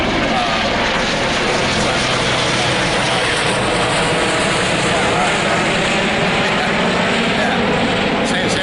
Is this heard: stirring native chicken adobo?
no